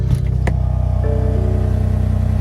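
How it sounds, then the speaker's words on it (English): A stock 2019 BMW M4 idles after a cold start, its exhaust holding a steady, close rumble with a couple of brief sharper blips near the start. "Hear the exhaust."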